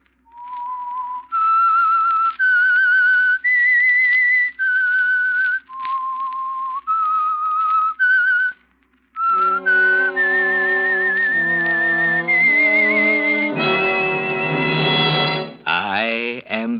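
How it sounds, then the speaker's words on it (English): The Whistler radio drama's theme, a lone whistler carrying a clear eerie melody in sustained held notes, after which an orchestra swells in beneath the whistle and builds to a full close. "That whistle is your signal for the Signal Oil Program"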